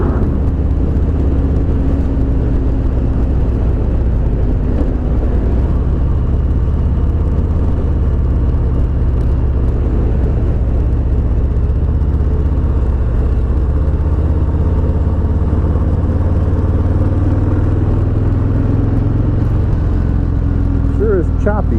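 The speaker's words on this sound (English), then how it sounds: "Is that the tires I hear rumbling? Like a whine, low-pitched whine?" A 2018 Harley-Davidson Fatboy at speed makes a loud, constant low rumble with a faint low-pitched whine from the tires, heavy wind roar running beneath, and a rider talking over it throughout.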